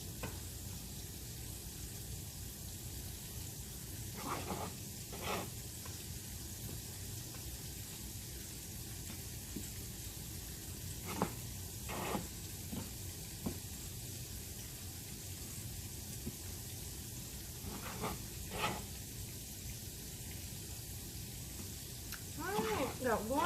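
Meatloaf meatballs fry in a pan with a steady, close sizzle running throughout, broken by a few brief louder crackles and pops of spattering fat.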